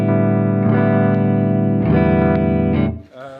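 Fender Jazzmaster electric guitar played clean into a Strymon Iridium amp and cab emulator, with a few sustained chords ringing loudly and then fading at the end, no voices.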